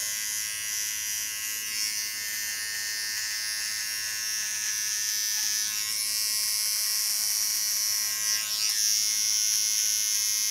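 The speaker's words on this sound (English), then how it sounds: "you have only to use the tip of your clipper blade and not the blade himself" Electric hair clipper buzzing steadily while the blade tip rounds off a disconnected asymmetric haircut on colored hair, a continuous high whine held close for the whole stretch with slight shifts in pitch.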